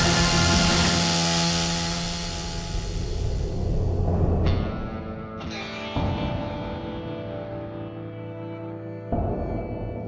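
Chainsaw revving in the video game Lost Judgment, wrapped in heavy distortion and echo: a harsh, buzzing roar that fades down, then surges again in short revs with sudden cuts, loud and processed, no voices.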